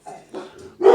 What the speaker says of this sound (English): Dog's reacting to dog sound.